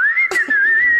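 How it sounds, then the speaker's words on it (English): A high, wavering whistle from a small child's congested breathing with pneumonia, one sustained tone lasting about a second, close and clear with a brief rustle partway through. "Isn't that the most beautiful pneumonia whistling you've ever heard?"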